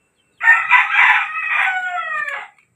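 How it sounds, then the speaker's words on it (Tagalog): A seven-month-old kelso gamefowl rooster gives a single loud, close crow lasting about two seconds, with a strained, wavering, drawn-out ending and no other sounds around it. "Yung isang inaalagaan kong manok dito."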